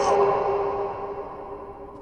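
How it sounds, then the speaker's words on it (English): A voice processed through a flanger, delay and reverb VST plugin gives one reversed, cavernous noise, like calling from a pit, fading in a smeared echoing tail. "a flanger delay verb that reverses your voice and makes you sound like you're in a pit"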